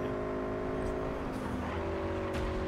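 A Toyota Supra's engine in the game Cyberpunk 2077 hums at a low, steady level, with a faint rev and a slight shift in pitch partway through, and no talk over it.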